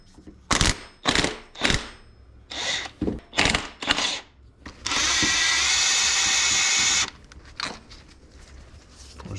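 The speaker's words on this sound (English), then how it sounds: "I'm going to use an impact because I got the tooling, so why not use it?" Impact wrench on bolts of a 120k-mile Nissan 300ZX engine during a timing kit job: several short sharp rattling bursts in a row, then one long sustained buzzing run of about two seconds, close and loud.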